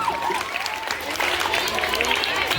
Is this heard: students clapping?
yes